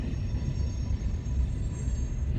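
Freight train cars roll around a curve with a steady, heavy low rumble of wheels on rail and a faint high metallic whine above it, continuous and fairly close.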